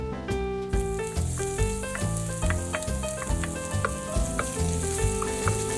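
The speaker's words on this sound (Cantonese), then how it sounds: "用返同一隻鑊，爆香啲薑同埋黃薑" Ginger and turmeric sizzle as they are stir-fried in the same wok earlier used for green peas and carrots, for vegan pineapple fried rice; the steady crackle runs beneath prominent melodic background music.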